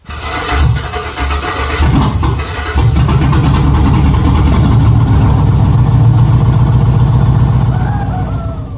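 A Ford F150 Platinum pickup engine starts and runs with a misfire, a loud, close, rough and uneven idle that steadies into a continuous rumble.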